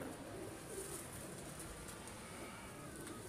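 Grey racing pigeons belonging to a pigeon fancier in Lahore, cooing softly and faintly against a steady background hiss.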